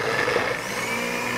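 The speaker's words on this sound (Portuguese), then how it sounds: "Vai estragar o liquidificador, ele vai bater tá isso." A blender whirs loudly and steadily, its motor straining with a grinding, labored tone as it struggles with a thick chocolate milkshake, running continuously without pause.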